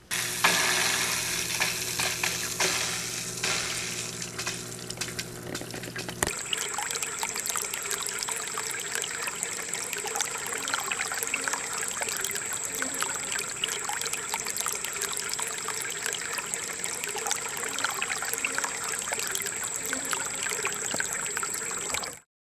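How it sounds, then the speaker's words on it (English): Water trickles and seeps through a groundwater simulator model in a steady, soft, continuous wash with fine bubbling texture, close by, and no voices. "Why don't we turn on the simulator to see exactly how that water moves?"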